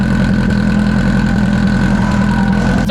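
A 1000HP Subaru STI with a Precision 7275 turbocharger idles close by, a loud, even, burbling engine drone with a lumpy low pulse throughout and a short sharp noise at the very end.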